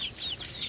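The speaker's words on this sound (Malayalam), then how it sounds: "22 കോഴികളുണ്ട്." Native and black hens cluck softly in a coop of about twenty-two small birds, a steady run of short, close clucks with no talk over them.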